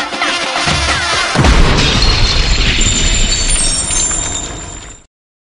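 Gunshot effect in a Persian pop song, a loud crack with a booming low-end burst about a third of the way in, ringing and crashing into dense music that fades out near the end.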